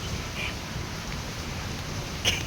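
Steady rain falls as a faint, even hiss with a few louder drops, no voices present.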